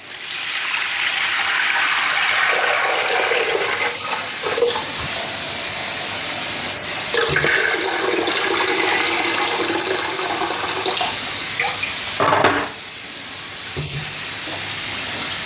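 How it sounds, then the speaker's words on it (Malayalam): Water gushes steadily into a cooking pot for stovetop chicken mandi, a loud continuous rushing splash that shifts in tone as the pot fills, with brief pauses and a stronger surge toward the end. "ഇതിലേക്ക് വെള്ളം ഒഴിക്കുക"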